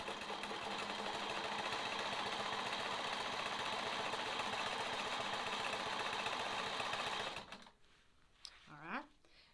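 A sewing machine stitches a sawtooth star quilt block in a fast, steady, even whir that runs close and loud for several seconds, then stops abruptly, after which a voice speaks.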